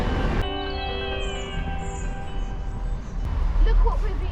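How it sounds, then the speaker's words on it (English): A passenger train hauled by a Class 68 locomotive pulls into platform 3 at Birmingham Moor Street station, sounding a long, tonal horn-like whine over low rumbling that gives way to rail clatter and squeal. "So there's our train."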